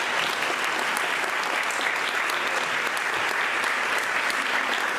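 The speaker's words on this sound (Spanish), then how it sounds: "un aplauso para ella" Audience applause at a double bass recital for the sound engineer, continuous dense clapping from a full room, loud and even from start to finish.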